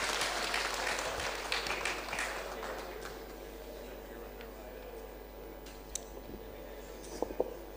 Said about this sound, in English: Let us clap our hands and appreciate.